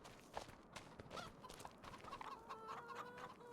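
Chickens cluck and call on a small farm, a scattered run of soft, fairly distant clucks and squawks over low outdoor background noise, with no talking.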